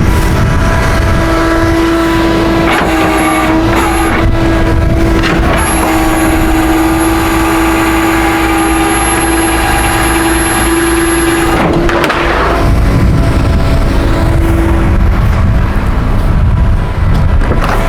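A low car being backed off a tow truck in gear, with a loud steady engine drone and a sustained whine that stops abruptly near the end, followed by clunks and rumbling close by.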